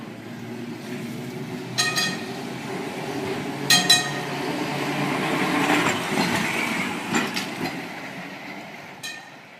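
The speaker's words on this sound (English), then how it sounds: "That is the sound of a Leeds tram." A Leeds electric tram rumbles along steadily, with periodic metallic clicks and clanks from the wheels over the rails.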